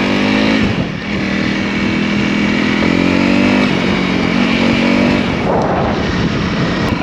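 A light Honda CRF 300 dual-sport motorcycle rides on the road, its engine droning steadily and loud throughout, with slight shifts in pitch as it revs.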